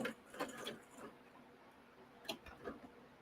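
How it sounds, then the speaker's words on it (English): A sewing machine stitches quilt blocks in short bursts, with faint ticking mechanical runs separated by quiet pauses, at a low level. "We're gonna keep right on sewing."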